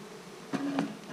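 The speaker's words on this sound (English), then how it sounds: "The bees seem to be a little laid back." Honeybees hum during a nuc transfer into an 8-frame deep hive. The buzz is brief, close and low-level, and one bee drones past in a clear tonal pass partway through.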